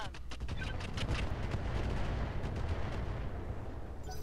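Mech weapons fire incendiary rounds in the video game Roguetech, a dense and continuous barrage of booming shots and rumbling blasts that rolls on for several seconds at moderate loudness.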